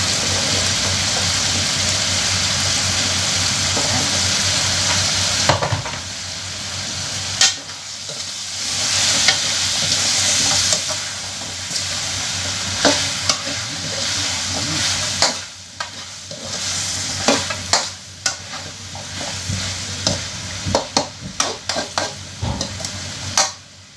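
Squash and sweet potato sizzle and crackle in a hot pan for pakbet, with spatula scrapes and stirring knocks breaking through the steady frying hiss.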